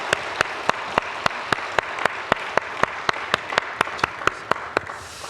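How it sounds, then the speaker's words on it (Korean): A church congregation claps together during a Sunday worship service, a steady evenly spaced beat of sharp claps over a soft room wash that lasts about five seconds. "우리 다 모아서 영광의 박수 올려드리십시다"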